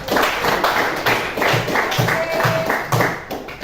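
Hand clapping from a classroom group, a burst of many overlapping claps that stays fairly loud and steady for several seconds with no talking.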